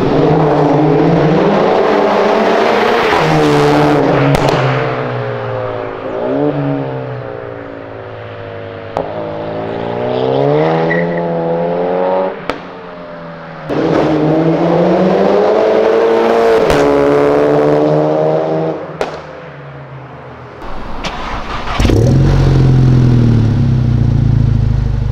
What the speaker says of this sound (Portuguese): comenta se gostaram do ronco novo do Jetta, com escape de 3 full inox da FBO